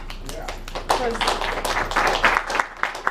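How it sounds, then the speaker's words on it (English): Office staff get a burst of clapping from an audience at a program presentation, scattered hand claps mixed with voices and a brief spoken word over a low steady hum. "Big clap to our office staff."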